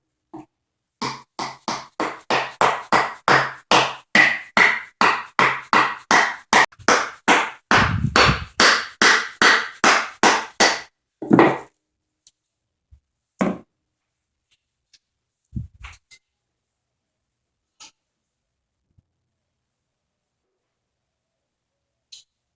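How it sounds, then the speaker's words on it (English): Dead blow hammer striking a wood block to drive a part into a Wilton 8-inch 1780 vise during reassembly: a long run of steady, evenly spaced close knocks, then a few isolated thumps and quiet. "Get a piece of wood here, get my dead blow hammer."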